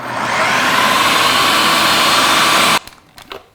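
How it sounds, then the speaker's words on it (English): A blender whirs loudly and steadily, mixing cottage cheese, chocolate and vanilla into a protein mousse, then cuts off abruptly near the end, leaving a few faint clicks and knocks. "Then we simply put on our lid and mix it until it is smooth and creamy."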